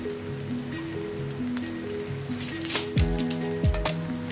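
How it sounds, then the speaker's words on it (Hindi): Corn lollipops shallow-fry in ghee on a tawa with a steady, dense sizzle and crackle that runs throughout, a few louder pops and bursts near the end. "तो मैं देखो इसको इस पर तवे पे थोड़ा सा घी डाल के सैलो फ्राई कर"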